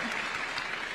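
A brief burst of applause from a State House audience, dense clapping that fills the moment evenly at moderate loudness, with a murmur of voices mixed in.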